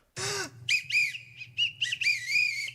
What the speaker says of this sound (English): He's like crying into the whistle.